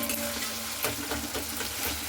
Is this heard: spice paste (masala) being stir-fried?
yes